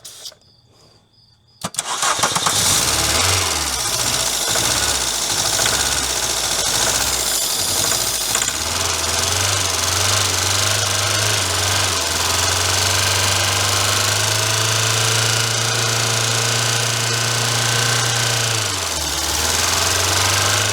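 Old Volkswagen engine, stored for eighteen years, cranks and catches on starting fluid, settling into a loud, steady running drone with a brief dip near the end after a quiet opening.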